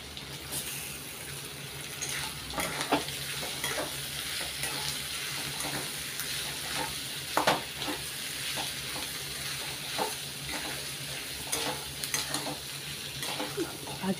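Potatoes with turmeric, salt and coriander powder frying in a pan, a steady low sizzle with repeated spoon scrapes and light clinks as they are stirred, quiet and close throughout.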